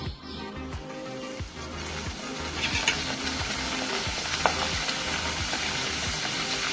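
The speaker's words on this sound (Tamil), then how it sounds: "ரோல் பண்றத நம்ம இப்போ சூடான எண்ணெயில போடலாங்க." Rolled batura dough frying in hot oil, a loud continuous sizzle with repeated stirring and scraping strokes close by, no voices.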